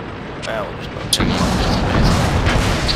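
A tank cannon fires in the video game World of Tanks, a single sharp, loud blast rising out of a dense, constant roar of battle noise.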